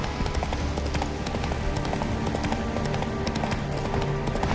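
A horse gallops in The Witcher 3 video game, with a steady run of rapid hoofbeats going on continuously at moderate loudness over a busy game background.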